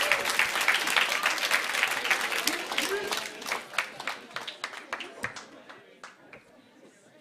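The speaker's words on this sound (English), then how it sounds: "Give yourselves a big round of applause." A poetry event audience applauds loudly in a dense wash of clapping that thins into scattered, separate claps and fades toward silence.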